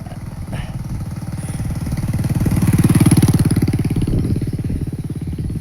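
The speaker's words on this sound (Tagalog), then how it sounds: "Tapos may motor na pala sila dito" A motorcycle engine idles and thrums close by, swelling a little in the middle before settling back to a steady rumble.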